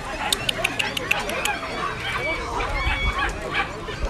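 Dog barking at a busy dog market, a run of short sharp yaps at the start and scattered barks later, mixed with crowd noise and people talking nearby.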